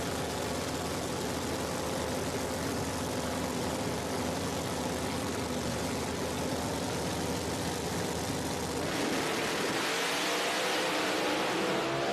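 Race cars at a Speed Promotions event in Qlispe, Washington roar loudly side by side in a drag down the straight, engines revving hard continuously before the noise drops off near the end.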